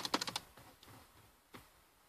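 Fingers tap a computer keyboard that keeps failing to respond, a quick burst of four or five close keystrokes at the start, then a few scattered, quieter taps and one firmer press, with no voices.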